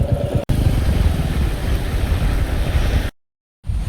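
A Royal Enfield Classic 350 motorcycle rides in fourth gear at about 110 km/h, with a loud, steady low engine rumble mixed with wind noise, cut briefly by two dropouts.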